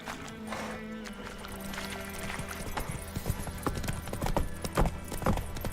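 Rhythmic clip-clop of Roach the horse galloping in The Witcher 3, steady hoofbeats at close range with game music and ambience, growing louder and punchier toward the end.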